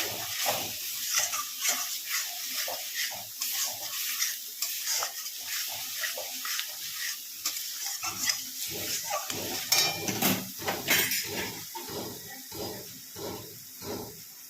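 Spices frying and being stirred in oil in a pan for chhanar dalna, a vegetarian Bengali paneer curry, with steady close sizzling and hiss broken by repeated rhythmic scraping strokes of a spoon against the pan.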